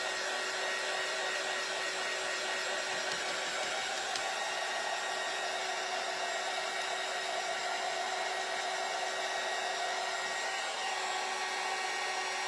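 A hair dryer blows steadily on squares painted with Mod Podge, a continuous loud airy whine that holds at one level throughout.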